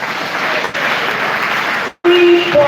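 Applause for a state governor at a 2023 World NTDs Day event, a broad steady clapping wash from a crowd that briefly dips, cuts out near the end, then resumes with a faint tone.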